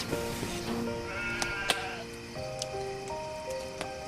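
A flock of sheep bleats steadily, with several overlapping wavering calls, some close and loud and others farther off, continuing without pause.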